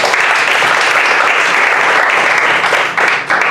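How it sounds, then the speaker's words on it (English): Sustained applause from an audience, a dense steady clatter of many hands clapping that tapers slightly near the end. "Give George a hand of applause."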